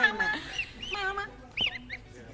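Domestic geese honk and call close by in a short, lively burst of overlapping nasal cries, with one sharper honk standing out near the end.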